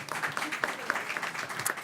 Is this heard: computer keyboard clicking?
no